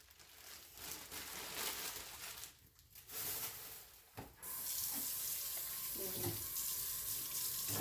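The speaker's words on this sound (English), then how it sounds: "Just going to wash it with room temperature water." Running room-temperature tap water splashes steadily into a sink over raw beef, with handling noises and a brief interruption before the flow resumes more strongly.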